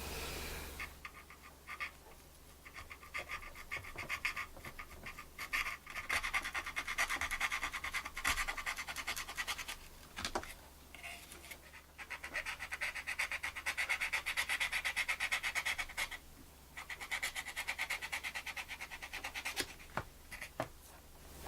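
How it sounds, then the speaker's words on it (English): A scalpel blade scrapes and shaves at a plastic part of a Revell USS Voyager model kit, producing quiet, close, intermittent rasping strokes in bursts separated by brief pauses. "I guess I'll just have to take a scalpel and carve it out."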